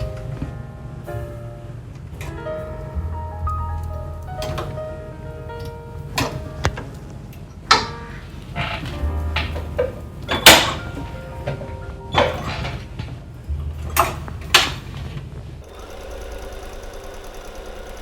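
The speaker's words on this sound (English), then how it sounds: "We are now ready to go sew this up" A sewing machine stitching up a dolman top runs in a steady mechanical hum, broken by short pauses and a few sharp clicks and taps between seams, with no talking.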